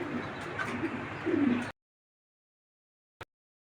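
Racing pigeons cooing softly up close, low murmuring coos for under two seconds before the sound drops out, followed by a brief faint click.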